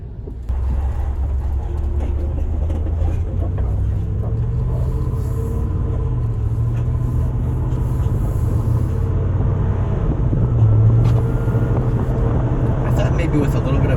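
A pickup truck towing a long-bed fifth wheel camper on an Andersen hitch rolls along the road with a steady, loud low rumble of engine and road noise throughout, with a brief heavier swell late on.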